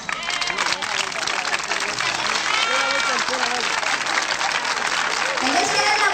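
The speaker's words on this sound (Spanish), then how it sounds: "se van a aplaudir mucho" Spectators at a 1990 village festival clap over a lively crowd, their applause mixing with voices and babble at close range before the clapping swells toward the end.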